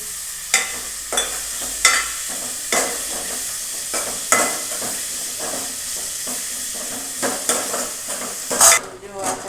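Chopped fenugreek leaves, tomatoes and chillies sizzle in a pan, with repeated scraping stirs of a spoon cutting through a steady frying hiss, loud and close, no talking.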